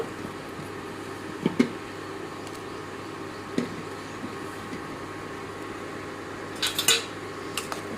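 Spoon scraping and clinking against a pan while small fish and potato curry is stirred, with a few sharp metallic knocks spread across a quiet background.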